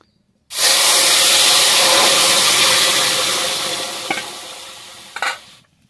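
Ingredients hit hot oil tempered with cumin and chili in a village-style fish curry pan, bursting into a loud, close sizzle that slowly fades over several seconds, with a couple of brief clatters near the end.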